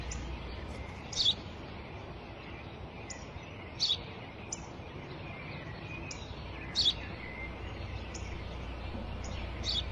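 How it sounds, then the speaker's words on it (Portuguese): A bird chirps outdoors in short, sharp calls every few seconds, clear and fairly close above a soft, steady background hiss. "Eu já te disse, pai, é um pássaro."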